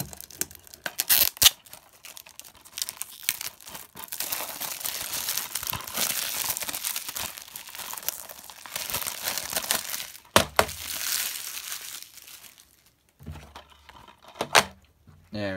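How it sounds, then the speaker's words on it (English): Shrink wrap is peeled and torn off a DVD case, close up, with bursts of crinkling and crackling plastic, sharp tearing snaps and a steadier rustle through the middle. "Let's take this shrink wrap off so you can get a better look at the front cover"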